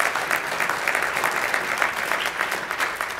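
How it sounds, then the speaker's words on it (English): Steady audience applause fills a civic State of the City address, dense clapping at moderate loudness with no speech over it. "Definitely clap for that."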